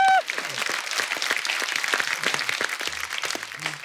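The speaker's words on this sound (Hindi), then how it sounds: "जोरदार तालियां" A studio audience at a comedy show applauds loudly, dense clapping starting right after a short tone and holding steady throughout, with a few faint voices mixed in.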